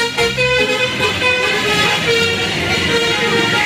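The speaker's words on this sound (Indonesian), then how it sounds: "Di sini ada mobil bus telolet." Toy telolet bus horn tooting a bright melodic tune in several short repeated notes, close and loud, over a light background of handling noise.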